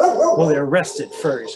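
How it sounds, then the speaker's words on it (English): A dog barks and whines under a person's speech, with short yips and a whimpering tone mixed in close by. "And that sound is my dog."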